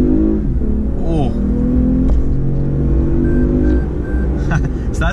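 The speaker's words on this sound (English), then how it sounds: "the engine sounds pretty gnarly" A 2020 Toyota Highlander SUV engine revs and pulls hard with a deep, rising growl inside the cabin, while a person speaks over it.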